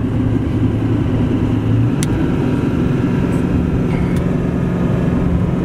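A car cruises on a freeway near Palm Springs at roughly 55 mph, a loud steady interior rumble of engine and road noise with a couple of faint ticks above it, no voices.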